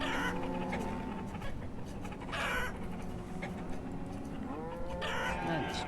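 Chickens clucking in the farming simulation game Banished, a busy layered barnyard murmur of clucks and calls over a steady ambient background, moderately quiet and continuous.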